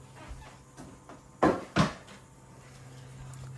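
Two quick plastic knocks and rattles, close and distinct, as a drawer is lifted out of a Liebherr CS 2062 fridge, amid otherwise quiet room tone and a faint fridge hum.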